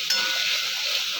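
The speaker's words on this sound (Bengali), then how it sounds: "বেশ কিছুক্ষণ নাড়াচাড়া দেবো।" A spice paste of ground cumin and green chilli sizzles and fries in a pan after fried potatoes, a steady hiss with a faint metallic clink near the start, close and loud with no talking.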